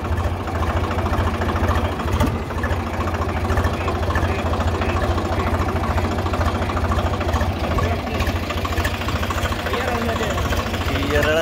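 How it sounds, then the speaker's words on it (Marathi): A tractor engine chugs steadily and loudly as it drives through a flooded river, a continuous mid-pitched rumble, with voices over it. "पाणी आल्यामुळं ट्रॅक्टरनं आपण चाललोय"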